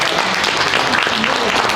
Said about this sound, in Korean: 우리 김승욱 대표께 다시 한번 교수님 박수 한번 보내드리겠습니다.